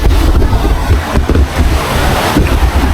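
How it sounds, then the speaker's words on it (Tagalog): Water laps and washes steadily along the shoreline at Balagbag beach in Real, Quezon, a close, continuous surf wash with wind buffeting the microphone throughout. "Yung pagaspas ng tubig dito sa shoreline."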